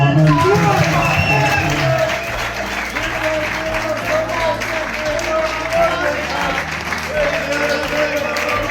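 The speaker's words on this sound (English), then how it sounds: "big round of applause for Keelan Gorman" Sustained applause from an audience at a football club's senior awards presentation, steady and fairly loud throughout, mixed with crowd murmur and voices underneath.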